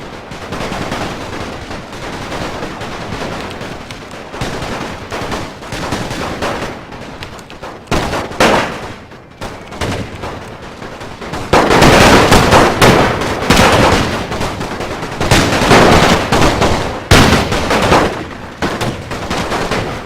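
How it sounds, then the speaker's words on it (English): Rifle gunfire from the video game Napoleon Total War with a WWI mod, dense volleys of loud, overlapping cracks and rattling bursts that swell into a heavier barrage midway before easing slightly. "I can tell by the animation they're using the screw breech rifle ammunition."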